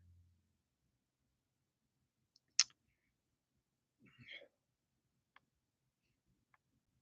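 Sparse computer mouse clicks, a few isolated sharp ticks separated by long quiet gaps, close and faint with a soft breathy rustle between them.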